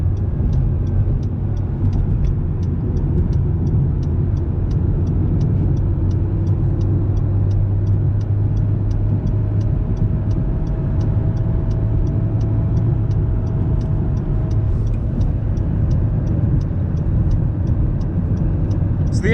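An Acura NSX driving a cool-down lap at Gingerman Raceway, heard as a steady, droning engine and road roar from inside the car with a faint regular ticking above it.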